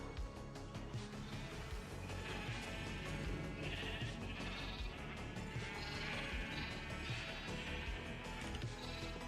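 Minecraft sheep at a sheep farm bleat repeatedly in overlapping, wavering cries, a steady chorus of many animals layered over game background noise, fairly faint overall with no speech.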